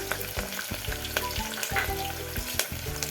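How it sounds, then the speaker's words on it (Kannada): Two large chopped onions with green chillies fry in ghee for ghee rice, making a close, continuous sizzle broken by short clattering stirs, with no talk. "ಈರುಳ್ಳಿ ಸ್ವಲ್ಪ ಫ್ರೈ ಮಾಡೋಣ."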